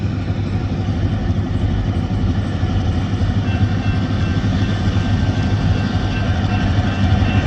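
Two vintage locomotives pulling a long freight train of nearly 80 cars give a loud, steady rumble of diesel engines and rolling wagons, continuous and close, with no voices.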